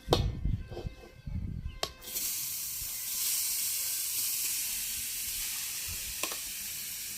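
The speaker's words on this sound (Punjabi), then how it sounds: "ਆਪਾਂ ਪਹਿਲਾਂ ਗਾਜਰਾਂ ਭੁੰਨ ਦੇਾਂਗੇ" Carrots sizzling in a kadai (wok) for gajrela, a steady broadband fry hiss rising after a few clattering knocks, continuous and fairly loud through the rest.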